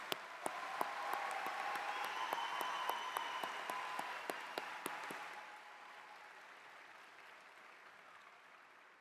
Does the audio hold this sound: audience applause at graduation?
yes